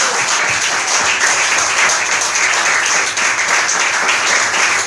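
A church congregation applauds loudly and continuously, a dense, close wall of clapping that holds steady for the whole stretch without any pause.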